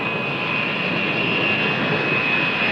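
Continuous jet engine roar of US Navy carrier aircraft, a loud steady whine with a high pitched tone holding throughout and no voices.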